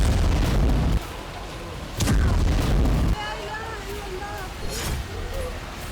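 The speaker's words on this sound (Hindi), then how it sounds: "इजरायली सेना और हमास समर्थकों के बीच जमकर फायरिंग हुई" Booming bursts of gunfire and blasts from clashes between the Israeli army and Palestinian fighters near Tulkarm camp in the West Bank, three heavy low thuds over about six seconds, with other noise and voices between them.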